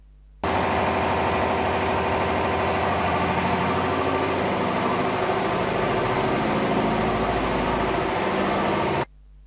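A steady diesel engine drones at idle with no load on its dynamometer, a constant low rumble and vibration, loud and unbroken for nearly the whole clip before cutting off abruptly.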